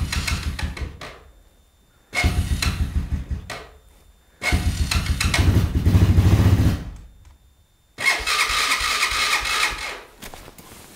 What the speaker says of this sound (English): if I keep pumping that primer, so takes a little bit to warm up, but you can see it does fire up